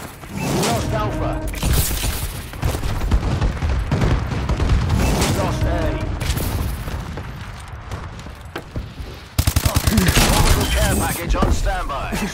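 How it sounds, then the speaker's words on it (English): Bombing-run explosions in Call of Duty: Advanced Warfare multiplayer, heavy booms and rattling blasts repeating over a dense battle din, with radio-style voice callouts heard between the impacts. "Friendly bombing run incoming."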